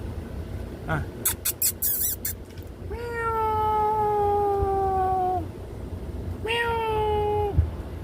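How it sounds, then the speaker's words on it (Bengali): A fancy pet cat meows twice, close by, each call long and drawn out, with a few sharp clicks and rustles before the first and steady low background noise throughout. "অনেক সুন্দর একটা বিড়াল"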